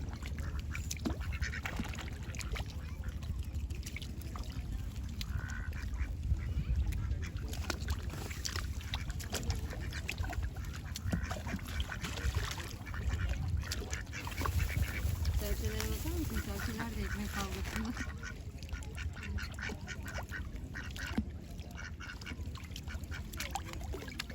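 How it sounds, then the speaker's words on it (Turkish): Green-headed mallard ducks quack now and then over a steady outdoor wash of water and murmuring voices in Muğla, Turkey, the calls scattered and not very close. "Şu yeşil başlı ördeklere baksana ne kadar güzel."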